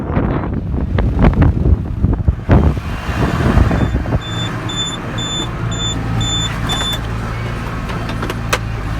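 Strong outdoor wind buffets the microphone in loud, gusty rumbles at a farm site where trucks got bogged, easing to a steadier roar with a faint mechanical hum beneath.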